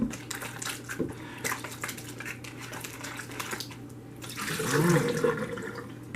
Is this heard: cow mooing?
no